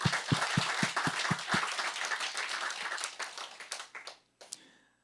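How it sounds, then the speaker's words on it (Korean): A church congregation at a Sunday worship service breaks into applause, starting with a few distinct slow claps before swelling into a full round of clapping that tapers off, followed by a brief burst of noise and fading room sound. "주님께 감사의 박수 한번 드리겠습니다"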